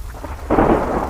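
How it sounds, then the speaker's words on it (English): Thunder rumbles over steady rain on a stormy night, quieter at first then swelling into a louder, deep roll halfway through, with continuous rain hiss underneath and no voices. "The stormy night provided a dramatic backdrop for her intense study session, with flashes of lightning illuminating the cozy space intermittently."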